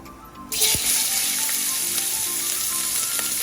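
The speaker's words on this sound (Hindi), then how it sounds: "तो अब इसके अंदर हम डालेंगे चावल" Rice drops into hot oil in a pan for a sweet gulatti, and after a brief quiet moment a sudden bright sizzle bursts up and holds steady, close and continuous.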